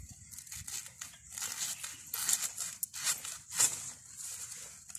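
A blade cuts through a plantain sucker on a farm, giving a close, fibrous tearing and crunching sound with a few sharper snaps near the end.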